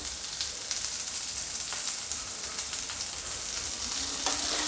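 A soybean Manchurian mixture with black pepper powder and salt sizzles steadily in a hot pan while being stirred, with close scraping strokes over a constant frying hiss.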